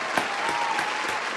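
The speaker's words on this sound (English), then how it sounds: "So if she's watching this, clap it up." Audience applause breaks out, a dense wash of clapping with a few sharper accents, steady and fairly near throughout.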